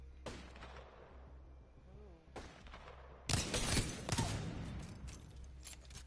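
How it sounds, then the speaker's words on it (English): Hip-fired shots from a Wingman pistol in the Apex Legends video game, fired while crouching: a few sharp cracks followed by a loud burst of overlapping gunfire and echo, close and prominent with no talk over it. "if you want to hip fire with the wingman, you want to crouch. Because your accuracy is way better if you crouch and shoot"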